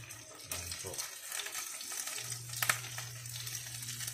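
Galunggong fish sautés in a pan with a quiet, steady sizzle and faint stirring scrapes, fairly soft and close.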